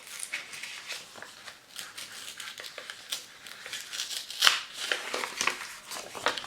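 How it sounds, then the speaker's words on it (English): Paper envelope being carefully opened out after a sticker is peeled off, with close, continuous crinkling and rustling of paper and a few sharper tearing crackles near the middle. "I'm also going to carefully open out the envelope."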